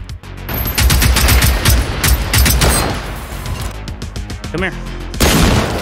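Repeated bursts of gunfire in the video game Generation Zero, loud, close and dense in rapid volleys, dropping briefly before a final heavy burst, with someone talking over it.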